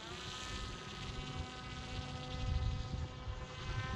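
A Magnus effect R/C trike's electric motor at full throttle gives a steady, buzzing whine rich in harmonics. It holds constant and swells slightly toward the end, with no voices.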